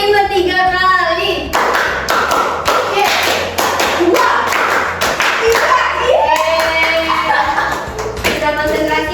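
Children in a classroom clap out a counted rhythm game, sharp groups of five claps repeated three times, mixed with voices and shuffling.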